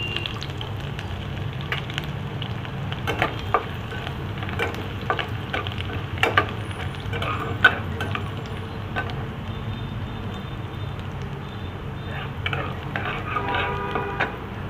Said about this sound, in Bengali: প্রথমে একটু ওই যে কুচানো রসুনটা রেখেছিলাম ওকে দিয়ে দিচ্ছি